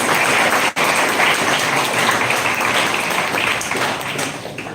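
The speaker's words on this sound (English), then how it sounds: "a round of applause, please." Dense, sustained applause from a crowd at an engineering college electronics carnival, steady broadband clapping throughout with a brief dip near the start.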